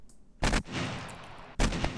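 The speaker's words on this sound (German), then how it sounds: "Ich habe einen Schuss gehört." Two loud, sharp gunshot blasts about a second apart, each with a booming echoing tail, from the video game 7 Days to Die.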